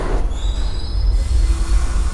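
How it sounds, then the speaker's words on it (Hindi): A New York subway train on the number 3 line, loud rumbling wheels with high squealing tones as the cars roll along the rails, steady and close, no talking. "तो भाई मेट्रो हमारी आ चुकी है नंबर 3"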